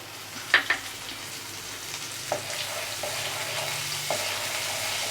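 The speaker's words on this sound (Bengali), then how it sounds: "তেলটা গরম হয়ে গেলে মশলাগুলোর সাথে আবার ভালো করে ভেজে নিচ্ছি।" Spices fry in hot mustard oil in a pan with a soft, steady sizzle, punctuated by a few sharp clinks and scrapes of a spoon, close and fairly quiet.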